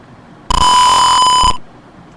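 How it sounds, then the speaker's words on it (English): A loud, piercing piezo buzzer blares continuously for about a second, a steady high-pitched tone, then cuts off, with quiet background before and after. "it will be extremely loud for the piezo buzzer"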